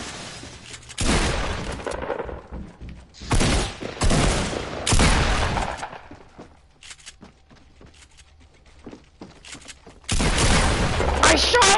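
Fortnite Battle Royale gunfire erupts in loud, close bursts of rapid shots separated by quieter gaps, with a final sustained volley, while players talk excitedly between and over the shooting.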